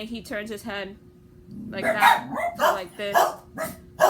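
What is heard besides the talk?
dogs barking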